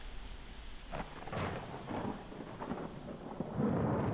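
Steady rain falls with low, rolling thunder building in the background during an outdoor storm, with no voices.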